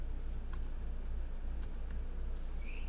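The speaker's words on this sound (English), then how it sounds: "hit the save button and then type in a name for your file" Keystrokes on a computer keyboard as a file name is typed into a save dialog, a scattering of light clicks over a steady low hum, fairly faint.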